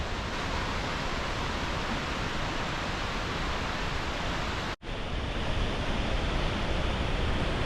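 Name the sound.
South Falls waterfall, 177 feet tall, gushing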